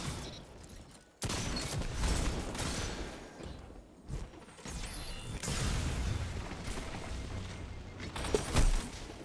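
Weapon fire from the Destiny 2 video game, a dense, sustained stretch of rapid shots and booms with a sudden loud onset and brief gaps, heard alone without voices.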